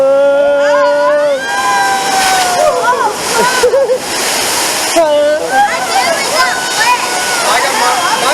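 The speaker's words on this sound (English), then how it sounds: "we're doing a splash" Water crashing and splashing over riders on the Fury of the Nile river rapids raft ride at an amusement park, a loud continuous rushing wash under excited shouts, whoops and talk from the crowd aboard.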